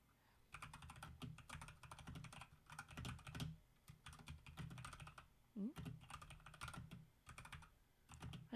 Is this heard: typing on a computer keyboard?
yes